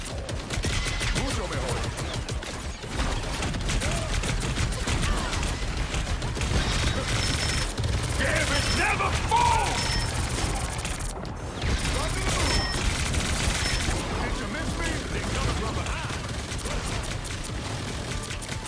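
Rapid gunfire in the game Hood: Outlaws & Legends crackles in dense, repeated bursts for most of the stretch, loud and close, with brief lulls and faint talk in the background.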